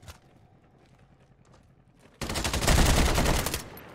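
Gunfire in the video game Warzone starts after quiet footsteps and scattered clicks, then erupts into a sudden loud, sustained burst of rapid automatic shots that runs to the end.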